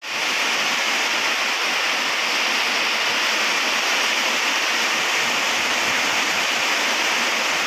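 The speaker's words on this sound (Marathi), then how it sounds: "जोरदार पाऊस आलेला आहे आता." Heavy rain pours in a dense, continuous roar, loud and unbroken throughout with no pauses.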